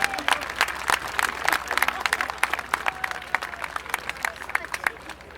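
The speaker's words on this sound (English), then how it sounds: "Little round of applause for our gunners there." A short burst of scattered applause from a small crowd at a tank museum event after a gun firing, claps crisp and uneven, with voices murmuring underneath.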